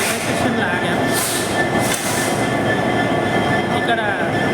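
A train halted at Castle Rock railway station as extra engines are added, heavy rumble and mechanical rail noise with occasional metallic squeals, loud and steady throughout.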